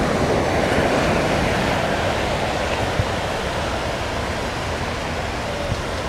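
Surf rolls steadily onto the wide sands of Juhu beach in Mumbai, India, a constant broad wash of breaking waves with light wind and no voices, holding an even level throughout.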